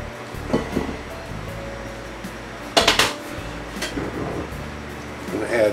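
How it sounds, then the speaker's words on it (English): Onions and celery added with bacon fat to a pan, heard as clattering of a utensil and pan with a sharp clustered clank near the middle and quieter knocks around it, close, with no talk. "I'm going to add the onions and celery along with all of the bacon fat that I can get out of the pan"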